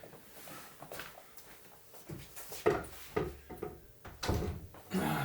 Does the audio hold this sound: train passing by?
no